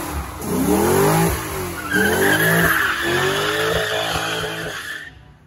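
A Ford Mustang's tires spinning and squealing on a wet drag strip at a night drag racing event in Culiacán, a loud sustained skid with the engine roaring underneath before it cuts off.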